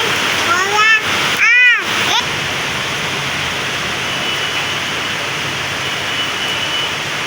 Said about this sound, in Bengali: দেখেন কি পরিমাণে বৃষ্টি চলছে।